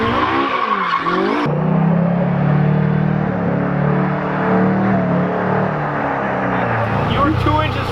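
A Camaro IROC-Z drives cool-down laps on an abandoned racetrack, its engine droning loud and steady with tire noise and rising revs, while people talk over the sound.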